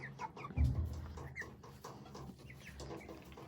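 Young broiler chicks kept under constant light, soft faint cheeps and chirps scattered over a quiet background with a brief louder thump, no talking.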